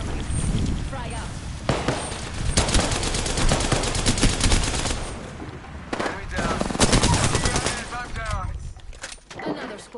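Rapid automatic gunfire in the video game Apex Legends, with repeated bursts and single shots close and loud while a voice talks over the shooting.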